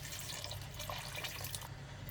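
Water poured into a pot of goat meat stew while cooking, a steady splashing, trickling pour heard up close and alone for about two seconds.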